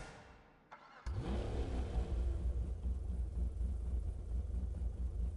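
Coquette Blackfin sports car engine in GTA 5, a quiet lull then the engine catches with a sharp burst and settles into a loud, steady throbbing idle with slight revving, close and alone.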